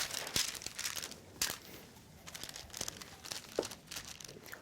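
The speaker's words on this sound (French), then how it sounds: "on va verser le croquant de noisettes et caramel au miel sur une petite feuille de papier sulfurisé" Honey caramel hazelnut brittle goes onto a small sheet of parchment paper, with light, close crinkling and scattered crisp ticks that come and go over several seconds.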